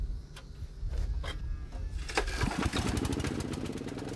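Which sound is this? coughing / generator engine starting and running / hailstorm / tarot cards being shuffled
generator engine starting and running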